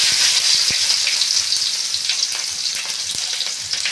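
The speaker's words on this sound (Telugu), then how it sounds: "తగినంత ఆయిల్ హీట్ అయినాక ఆవాలు కొన్ని వేసుకున్నాం" Mustard seeds fry in hot oil, giving a loud, close, hissing sizzle with scattered crackles and pops that eases slightly toward the end.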